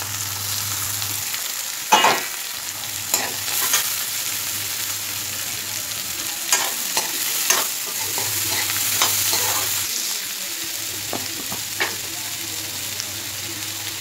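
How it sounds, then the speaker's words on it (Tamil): Bitter gourd stir-frying with curry leaves in a pan, a steady close sizzle with repeated scraping stir strokes, running on its own without talk. "லைட்டாக வதங்கவும் பாவக்காயும் போட்டுருங்க."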